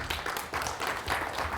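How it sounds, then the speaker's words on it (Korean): An audience applauds after a keynote lecture at a 2020 academic conference, steady dense clapping from a full room that continues throughout. "구현모 대표이사님께 다시 한 번 큰 박수 부탁드리고요"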